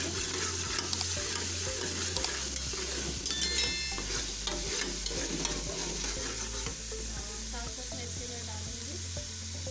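Ginger and garlic paste frying in a pan with browned minced meat for keema matar aloo, stirred steadily with a spoon. A constant close sizzle runs under repeated scraping strokes, with no voices.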